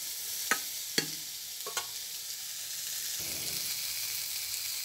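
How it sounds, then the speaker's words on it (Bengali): Ripe bitter gourd frying lightly in oil in a karai, a soft steady sizzle punctuated by three sharp knocks of a spoon against the pan, then quieter stirring. "করলাটা আমার কিছু সময় ভাজা হয়ে গেছে"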